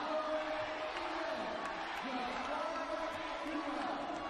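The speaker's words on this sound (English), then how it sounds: "Listen to the chant." Packed boxing arena of over 3,000 fans chanting and cheering during a women's bout between India and Kazakhstan, a distant sustained crowd roar beneath an announcer's commentary.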